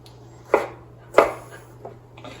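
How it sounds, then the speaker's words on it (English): A knife chops cherries on a cutting board: two sharp, distinct thuds about half a second apart, followed by a couple of softer taps, close and clear against a quiet background. "And I just chop them up a little bit."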